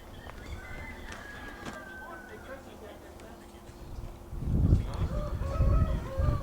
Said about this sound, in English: Oh yeah, look at the turkeys.